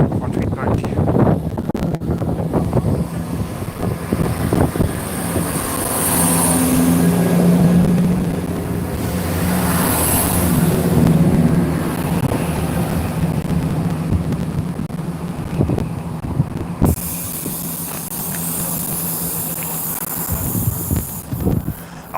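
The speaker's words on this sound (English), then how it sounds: "I like that grinding sound coming off the rails" A Class 170 diesel train pulls away at Galashiels, its wheels sending a rising grinding squeal off the rails over a steady rumble, with wind buffeting the microphone and a voice speaking now and then.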